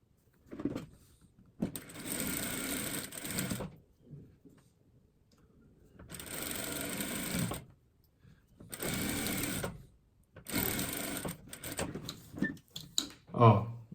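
A sewing machine stitches a patchwork seam for a cushion cover in several fast rattling bursts of a few seconds each, close and clear, with quiet pauses and a voice talking between runs.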